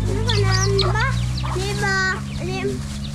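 Chickens clucking nearby in a rhythmic series of short, pitched calls, with a steady low hum beneath.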